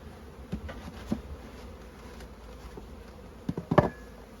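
Honey bees buzzing around an open hive, a faint steady hum with a few louder passes close by.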